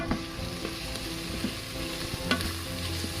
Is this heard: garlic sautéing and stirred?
yes